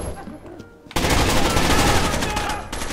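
Sudden loud automatic gunfire erupts in Rainbow Six Vegas 2 after a quieter moment, a dense continuous burst of shots close by that fills the rest of the moment.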